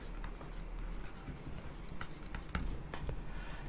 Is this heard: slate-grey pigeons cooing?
no